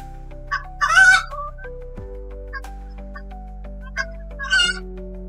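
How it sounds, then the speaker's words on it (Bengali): A horror story sound effect of chickens in a coop, sharp squawks and cackling clucks in two loud bursts with quieter single calls in between, over a steady low hum. "মুরগিগুলো এরকম করছে কেন?"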